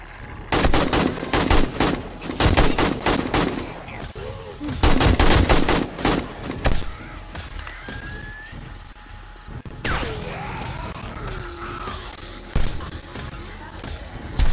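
Rapid bursts of automatic gunfire from a player-built gun turret shooting at zombies on horde night in 7 Days to Die, loud volleys in several clusters with quieter gaps, mechanical clatter and game noises between.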